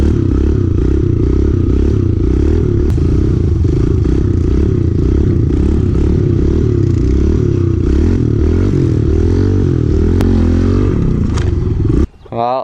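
A worn-out pit bike engine runs loud and close, a rough, throbbing motor drone with rising and falling revs, cutting out briefly near the end.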